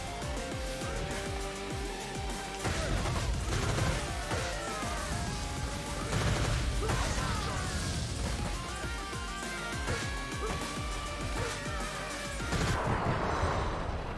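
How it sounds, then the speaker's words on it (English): Grenade blasts in Streets of Rage 4 survival mode going off as a rapid string of loud crashing bursts and thuds over busy game music, dense and continuous throughout. "Grenade. Grenade again."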